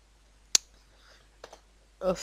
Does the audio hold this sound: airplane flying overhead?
no